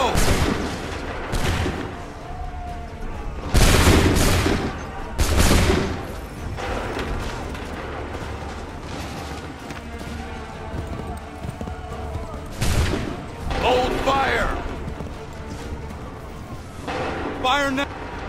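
Musket volleys fired in Assassin's Creed III battle: several loud, booming bursts of massed gunfire spaced a few seconds apart, with crackling echoes and shouted voices in between.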